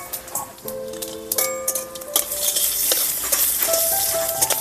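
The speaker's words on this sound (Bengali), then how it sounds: "মশলাটা লালচে করে ভেজে নিতে হবে" Whole cumin, chillies, five-spice and garam masala fry in hot oil in a wok, a steady close sizzle with scraping stirs and light clinks of a utensil against the metal.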